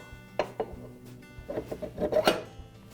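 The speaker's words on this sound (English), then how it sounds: "I'll reinstall the woodruff key and the blade adapter." Metal parts clinking and scraping as a woodruff key and blade adapter are refitted to a lawn mower shaft: a few sharp taps, then a cluster of close rubbing and clattering contacts.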